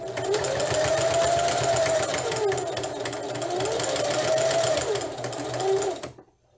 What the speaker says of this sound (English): we're just going to do a top stitch over the open end